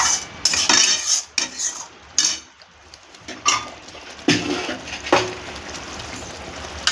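A metal spoon stirring chicken with sour yogurt in a pan while cooking Bengali-style masala chicken dum, with irregular scraping and clinking strokes, close and fairly loud, over a soft sizzle with no talking.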